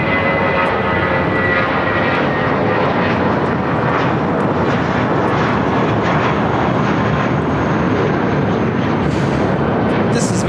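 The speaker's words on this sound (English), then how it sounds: "flight 513, taking off to Guadalajara on the A320" A Viva Aerobus Airbus A320 takes off from LAX bound for Guadalajara, its engines a loud, steady broadband roar that holds throughout without letting up.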